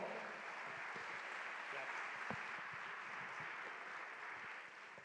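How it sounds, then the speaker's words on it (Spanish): An audience at a conference event in Puerto Rico keeps up a soft, steady applause while the speaker steps away, heard as a faint, even wash of clapping with no talk over it. "Un aplauso mientras, por favor, un aplauso."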